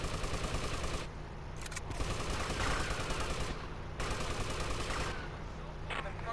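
Gunfire in GTA Vice City, rapid bursts of shots in dense clusters broken by short gaps, mixed with game background noise and a voice.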